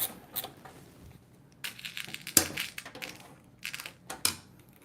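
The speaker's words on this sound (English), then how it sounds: "I think I just banged on this glass." Sharp knocks and taps against the glass side panel of a PC case during a build, several separate hits scattered across the moment, close but fairly quiet, with fumbling handling noise between them.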